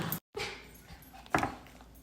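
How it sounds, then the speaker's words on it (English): Dogs playing indoors in a kitchen, with a short whimper, scattered yips and scuffling, then a louder bark-like burst near the end, moderately close. "My dogs are playing"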